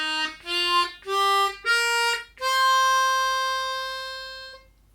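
A Hohner PentaHarp harmonica plays a minor pentatonic scale: four short, clear notes step upward one after another, then a final note is held long and fades, with no voices.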